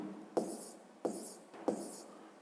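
A pen writes a number on paper in a fifth-grade maths exercise, three quick scratchy strokes in an even rhythm, close and quiet with no talking.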